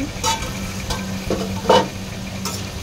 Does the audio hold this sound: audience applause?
no